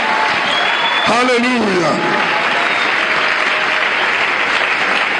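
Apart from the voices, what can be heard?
congregation applauding the king of kings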